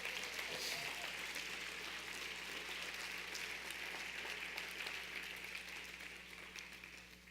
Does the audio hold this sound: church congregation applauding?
yes